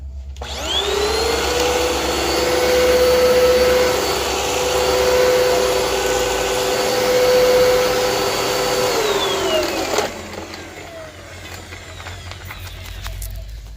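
A vacuum cleaner whines steadily for about ten seconds, loud and close, then winds down and cuts off, leaving quieter background noise.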